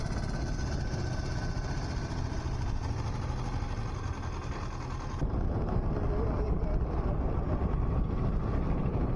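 Steady motorbike engine drone with wind rush while riding toward a hilltop temple in Warangal, continuous and close, shifting slightly in tone midway.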